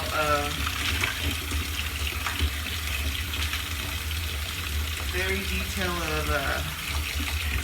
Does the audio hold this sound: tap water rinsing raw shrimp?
yes